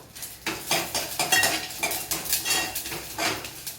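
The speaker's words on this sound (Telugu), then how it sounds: "సగ్గు బియ్యాన్ని వేయించుకోవడం వల్ల పాయసం త్వరగా అయిపోద్ది" Sago pearls roasting in a pan, with a spoon scraping and rattling against the metal in quick repeated strokes under a light sizzle, close and fairly loud, without speech.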